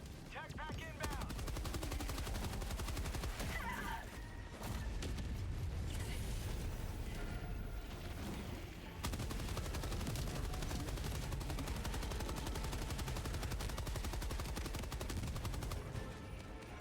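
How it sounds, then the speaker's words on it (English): Orbital barrage strike in a video game: a sustained, dense roar of repeated explosions and gunfire that continues throughout, loud and rumbling with constant heavy impacts. "That barrage killed a whole whopping total of 3 of them."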